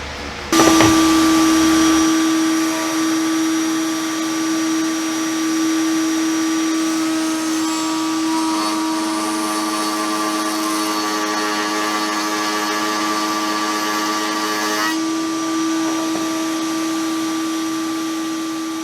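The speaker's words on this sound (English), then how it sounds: "Got a stop block, and I'll plunge cut it." A power tool plunge-cuts a cord channel into wood against a stop block for a copper and wood lamp, a steady loud whine with a strong tone that runs near and constant from start to near the end, dipping briefly before resuming.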